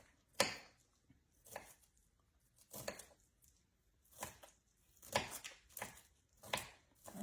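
Ham cut into bite-sized pieces on a cutting board, about eight distinct knife chops in an uneven rhythm, close and crisp with quiet gaps between strokes.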